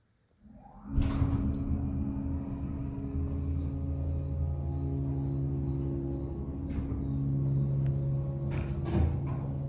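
An Otis hydraulic elevator's motor gives a steady low hum with a constant drone, starting after a brief quiet moment and running throughout, with faint clunks and a higher whine near the end.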